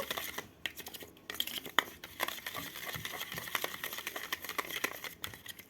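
An egg beaten briskly with a spoonful of cornflour for crispy fish cutlets: a fast, steady run of close clicking and scraping strokes against a bowl, with no talk.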